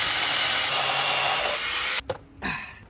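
Hand sawing through a hard workpiece with a rusty blade, a steady rasping scrape that runs for a couple of seconds, then stops and gives a few short final strokes.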